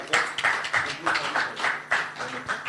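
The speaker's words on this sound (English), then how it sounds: "Giving the big claps." Audience applause at a yoga summit event, a steady run of close, brisk claps with rhythmic bursts, while people talk over it.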